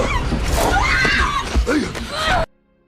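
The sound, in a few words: girl screaming in a war film scene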